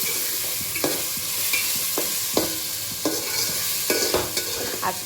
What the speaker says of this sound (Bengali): মশলা ভাজা হবে, সব একসাথে ভাজা হয়ে যাবে।